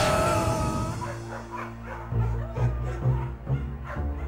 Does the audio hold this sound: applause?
no